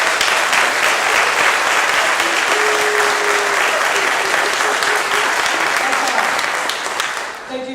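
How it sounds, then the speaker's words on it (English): Audience at a Ballard Performing Arts event applauds with steady, dense clapping for about seven seconds, loud and close, thinning near the end. "Let's give them a big round of applause."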